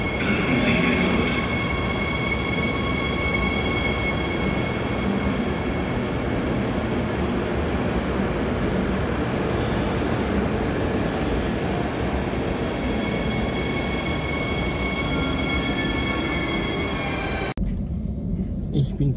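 Regional express train (RX) riding home from Cologne, heard from inside the carriage as a steady, loud rumble of wheels and rail noise with faint tonal whine, continuing for most of the stretch before dropping away near the end.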